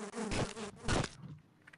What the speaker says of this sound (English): You can also use the bees yourself, remember?